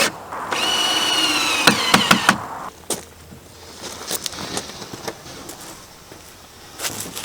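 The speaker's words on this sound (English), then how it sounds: "I'm just going to lock this joist in place by toenailing it into the sleeper down below." Nails toenailed through a shed floor joist into the sleeper beneath: a burst of loud pneumatic hiss followed by a quick series of sharp nail-gun shots and impacts, then lighter knocks and handling noise outdoors.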